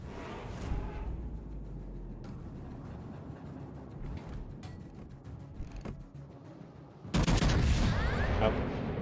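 Battleship shells fire in World of Warships Legends, a low rumbling barrage with scattered cracks that ends in a sudden loud broadside blast.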